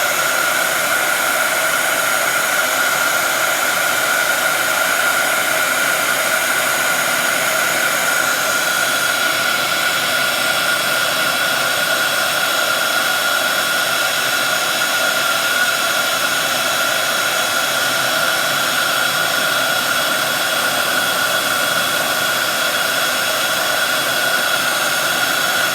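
A craft heat tool blows nonstop for the whole stretch, a steady, loud, close whooshing roar with no voices.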